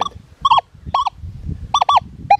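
A metal detector signaling a nickel: a series of short, warbling electronic beeps repeat in uneven pairs over a low rumbling background, each tone dipping slightly in pitch.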